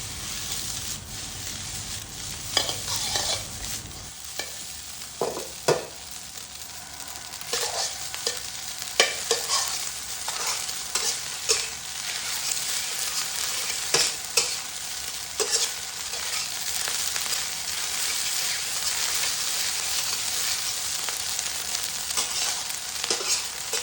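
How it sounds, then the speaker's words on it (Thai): Egg and sausage fried rice being stir-fried in a hot pan, with a steady sizzle, scraping spatula strokes and sharp clanks of metal against metal recurring throughout, close and fairly loud. "ก็ผัดให้เข้ากันดีนะครับ"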